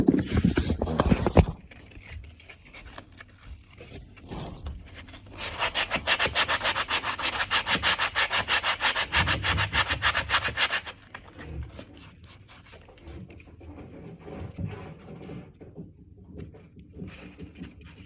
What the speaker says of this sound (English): just need to sand that down